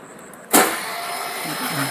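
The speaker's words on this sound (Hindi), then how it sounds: "तो चलिए भाई सेल्फ स्टार्ट कीजिए" A Suzuki Burgman or Access BS6 scooter with a battery-discharge fault is self-started: an abrupt starter kick gives way to a steady motor hum, with a faint voice underneath.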